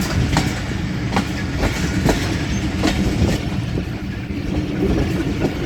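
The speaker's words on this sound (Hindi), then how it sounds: "और ये ट्रेन जी प्लेटफॉर्म नंबर 2 पर आ रही है।" A train pulling into platform number 2 at Golra Sharif Junction, wheels clicking over rail joints in a steady rhythm under a continuous rumbling roll, close and fairly loud.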